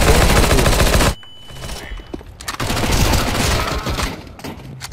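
Loud, sustained automatic gunfire in a video game, a dense roar that cuts off abruptly, then resumes as scattered bursts and rattling shots with a brief ringing tone.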